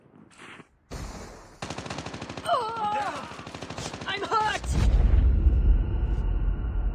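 Rapid automatic gunfire in Call of Duty: Mobile during a team deathmatch, loud and close, with bursts of shots, a heavy boom near the end and game voice chatter over the shooting.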